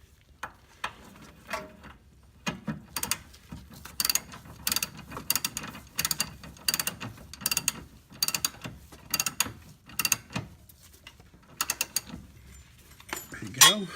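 Ratchet wrench snugging a nut onto a Lexus IS lower control arm bolt, rapid clicking bursts in irregular clusters, close and fairly quiet, with brief pauses between strokes.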